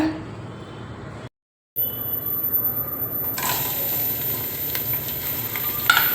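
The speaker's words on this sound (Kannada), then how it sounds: "ಸ್ವಲ್ಪ ಈರುಳ್ಳಿ ಫ್ರೈ ಮಾಡಿ ತಕ್ಕೋತೀನಿ ಫಸ್ಟು" Chopped onions fry in hot oil with a continuous crackling sizzle, briefly cut by a moment of silence before growing slightly louder.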